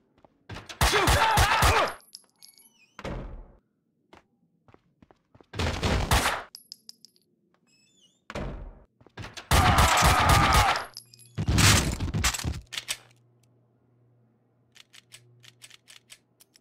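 Gunfire from the Max Payne 2 PC game sounds in five loud, dense bursts of rapid shots spread across the stretch, each followed by brief quiet with faint clicks and echoes.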